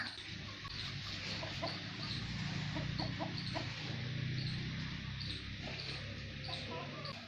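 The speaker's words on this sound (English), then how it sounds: "there are pigeons, hens, that is their sweet home" Hens cluck and murmur steadily nearby, a few louder clucks popping out over a continuous farmyard bed of fowl chatter.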